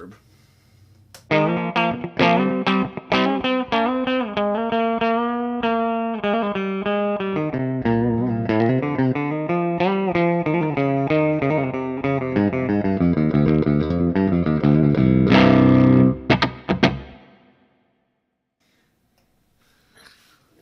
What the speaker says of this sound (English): And the plate reverb.